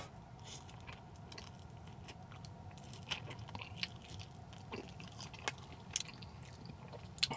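Bites into a Del Taco birria taco, with a few crisp crunches and chewing sounds close up against a low, steady room hum, no talking.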